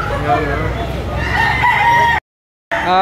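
Roosters crow repeatedly at a Lipa City chicken auction market, loud and close, with layered cock-a-doodle-doo calls and clucking over crowd murmur, then a brief cut to silence before crowing resumes.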